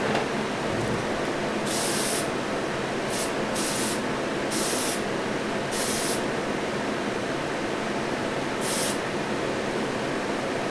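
Short bursts of an aerosol spray can applying ice blue metallic paint to a Corgi model car, about six separate hissing sprays of one to two seconds each, close and loud over a constant background hiss.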